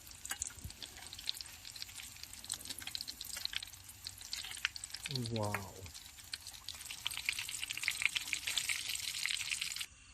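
Egg frying in a pan at an outdoor camping spot, a faint continuous sizzle and crackle throughout, with a brief voice partway through.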